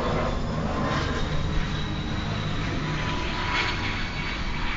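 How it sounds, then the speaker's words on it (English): A propeller or jet aircraft passes overhead in a steady, continuous drone that swells slightly toward the end, heard on its own with no talking. "There's a plane going around."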